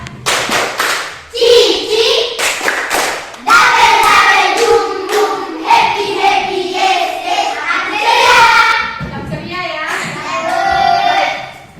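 A class of schoolchildren in a classroom clap with their fingers in quick, crisp bursts up close, the rapid patter giving way after a few seconds to loud children's voices chanting and talking together.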